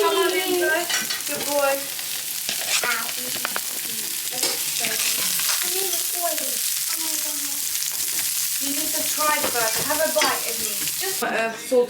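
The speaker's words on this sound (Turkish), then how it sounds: "Ondan sonra burgerleri üstte pişiriyorum ben." Burgers frying in a pan with onions and plenty of olive oil give off a steady, close sizzle, with scraping and stirring clatter on top and no voices.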